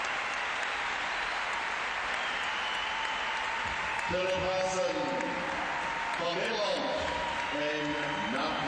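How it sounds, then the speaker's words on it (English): Loud, dense crowd applause and cheering fills an indoor arena, the Thomas and Mack Center, as a dressage horse and rider finish their test, with a commentator's voice running over the steady roar throughout. "The crowd is just deafening here at the Thomas and Mack Center. Another raucous ovation for a rider and horse"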